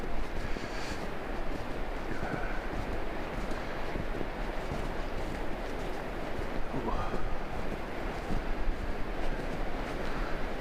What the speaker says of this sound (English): That sound, the wind and the leaves, the trees,